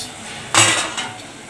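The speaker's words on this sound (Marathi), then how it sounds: "याला उकळी येते तोपर्यंत आपण इथे खमण कट करून घेऊया" A utensil cuts through khaman dhokla and strikes the dish beneath, giving one sharp clack followed by a softer second knock over a quiet background.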